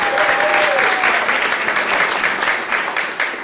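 A large crowd at the 2016 10th Annual Literacy Leaders Awards ceremony bursts into steady, dense, loud applause that holds for several seconds and eases slightly at the end.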